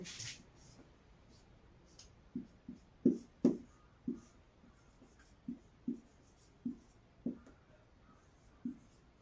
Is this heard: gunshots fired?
no